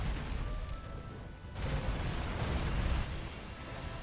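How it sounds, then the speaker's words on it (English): An explosion in the Monster Hunter World video game, a broad rumbling blast that swells and sustains for several seconds under continuous game noise. "He caught me with the explosion."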